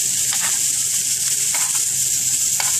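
A rib eye steak searing on the grill gives a loud, constant sizzle up close, with faint crackles and pops rising through the steady hiss.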